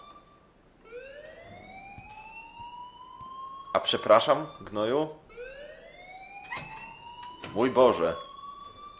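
A school alarm blares in Life is Strange as a steady rising electronic tone across the whole span, with two short bursts of Polish speech over it.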